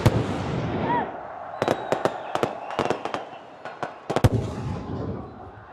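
Firecrackers crackle in a rapid irregular string of sharp pops, some in quick clusters, heard at moderate distance over a faint background murmur.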